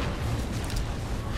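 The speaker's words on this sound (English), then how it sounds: "Make a big explosion." A big explosion in the PC video game Far Cry 4: a dense, steady roar of broadband rumble lasting the whole moment, loud and sustained with no talk over it.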